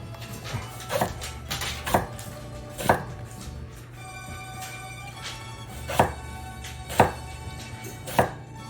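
Chinese eggplant, long and thin, chopped with a knife on a cutting board for ratatouille: a series of sharp, close knife strikes in an irregular rhythm, about eight chops with short pauses between them, with no voices.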